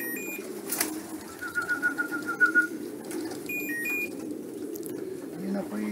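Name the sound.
pigeons at a racing pigeon loft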